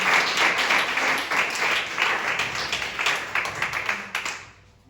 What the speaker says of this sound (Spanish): denle un fuerte aplauso a la presencia del Señor que está aquí en esta hora